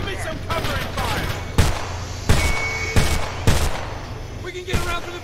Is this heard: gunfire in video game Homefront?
yes